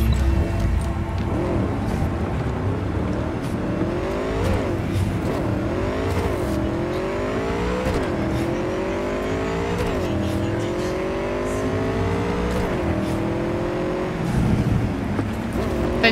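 Car engine in the video game Cyberpunk 2077, revving and shifting hard during a chase after a van, loud and continuous with repeated rising pitch sweeps as it accelerates through gears.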